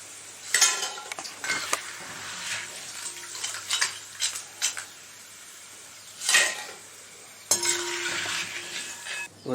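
Banana chips fry in hot oil while a spoon stirs and taps against the pan, bursts of bubbling and metallic clinks in irregular spurts between quieter moments, close and without voices.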